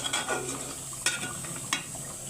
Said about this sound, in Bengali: মাংসটা অলরেডি বসাইয়ে দিচ্ছি এখন কষাইয়া নিচ্ছি কষতে কষতে একদম শুকনা শুকনা হবে